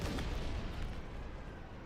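Gunfire strikes the player's ship in No Man's Sky as rumbling, booming blasts, loud at first and easing slightly, with a heavy low-frequency thud throughout.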